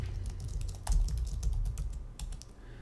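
Quiet, fast typing on a computer keyboard as a question is entered, a brief run of light irregular key clicks close by with no talking.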